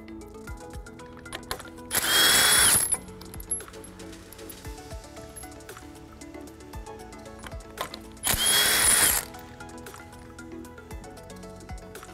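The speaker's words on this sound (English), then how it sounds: "we're going to remove disc bolts and washers 10 of them using impact wrench and 24 millimeter socket" An impact wrench with a 24 mm socket removes disc bolts in a workshop, loud rattling bursts of about a second each, twice, with quieter shop sounds between.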